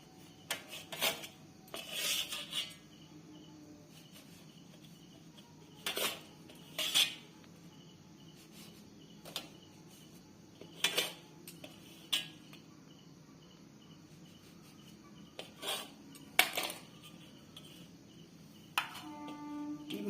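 A knife cuts through a Swiss roll cake on a plate, making scattered short clinks and scrapes of metal on the plate in irregular bursts against a quiet background hum.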